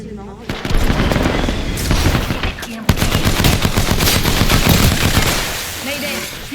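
Enemy gunfire in a sci-fi shooter video game, rapid bursts of shots rattling almost continuously and loud, with a sharp break near three seconds and a voice talking over the din.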